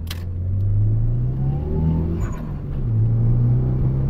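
Mitsubishi Eclipse engine held at high RPM with a slight misfire, a loud steady close-up drone that dips briefly in the middle and then climbs again, with no voices.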